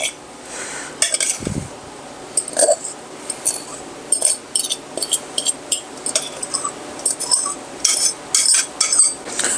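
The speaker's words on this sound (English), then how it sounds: "Let's add in our taters." Mashed potatoes being scooped into a wide bowl, heard as a run of light clinks and scrapes of utensil against dishware, fairly close and steady with no talking.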